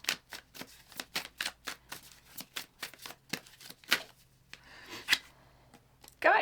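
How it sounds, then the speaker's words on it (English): An oracle card deck being shuffled by hand: a steady run of quick, crisp card flicks and riffles, close and fairly quiet, with a few sharper slaps near the end. "Let's just pull one more oracle card."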